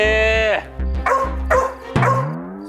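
A dog barks and yips close up in a Hindi TV serial scene, several sharp barks in quick succession with a whimpering tone, loud and clear with no talk over them.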